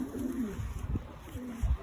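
Iraqi red pigeons in a loft giving soft, low rolling coos in short phrases, fairly quiet and close, with a few muffled thumps between calls.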